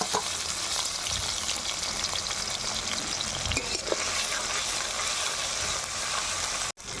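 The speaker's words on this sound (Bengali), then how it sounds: "এখন কেটে রাখা টমেটোগুলো তেলে ছেড়ে দিলাম। মশলাগুলো তেলে ছেড়ে দিলাম।" Chopped tomatoes and spices fry in hot oil with a dense, steady hiss and crackle, close and constant, broken by a few faint spoon knocks before cutting off abruptly near the end.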